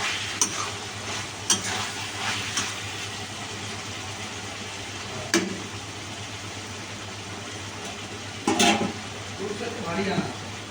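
Masala spices frying in oil for chilli chicken, a steady close sizzle with occasional sharp scraping stirs of a spoon against the pan, with a faint background hum and no talking.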